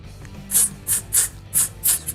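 Five quick hissing bursts of hair spray onto the edges of a lace frontal wig, evenly spaced and close up, the last one shorter.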